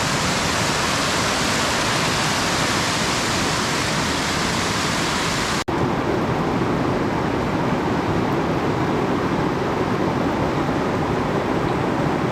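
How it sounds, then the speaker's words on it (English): A waterfall in the Wind River Range near Dickinson Park roars from very close, as if standing right in the spray, a dense, continuous rushing wash with no pauses. "I'm standing right in the middle of the waterfall."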